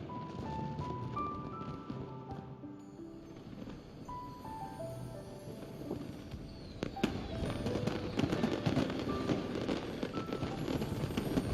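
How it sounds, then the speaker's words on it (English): Fireworks in the video game Genshin Impact crackle and pop over a melodic music bed, the bursts growing denser and louder in the second half. "listen! It's the fireworks."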